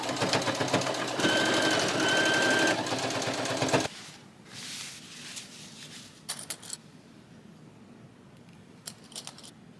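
A sewing machine stitches the lining of a child's band uniform, running in a loud steady burst for about four seconds, then stopping, followed by quieter handling noises and a few short clicks.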